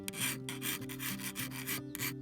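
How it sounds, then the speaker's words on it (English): A small hand file run gently along the curved bevel edge of an everyday hand tool, giving a faint, close rasping rub in repeated short strokes with no voice. "grab the smaller file and just run it"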